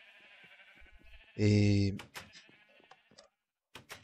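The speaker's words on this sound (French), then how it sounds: "Les moutons, je les ai ramenés." A single loud, sustained Minecraft sheep bleat in the FTB Infinity modpack, close and clear, with quiet game sounds and a brief spoken word around it.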